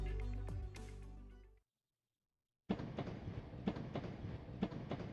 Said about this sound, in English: Ready to hear the trains.